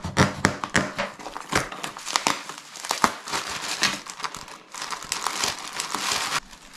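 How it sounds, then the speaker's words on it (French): Disney pins are being unwrapped from crinkly plastic packaging. The close, loud crinkling and crackling goes on almost without pause, with sharp rustles and crunches all the way through. No voices are heard. "je vais toutes les sortir de leur emballage"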